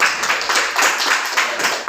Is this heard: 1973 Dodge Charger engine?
no